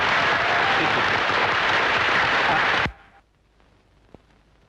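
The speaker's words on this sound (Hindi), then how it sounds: "इसके बाद तालियां" A crowd at a garlanding ceremony for a film event bursts into steady, full applause that cuts off abruptly about three seconds in, leaving near silence and a single faint knock.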